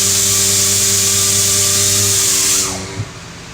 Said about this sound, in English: I'm gonna go clean this up on a wire wheel